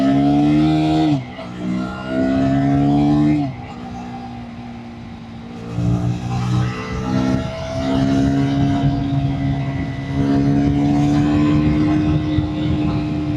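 A KTM RC 160 motorcycle accelerating hard on an open road, loud rising engine whine through the gears, a brief dip between shifts, then sustained high revving close by.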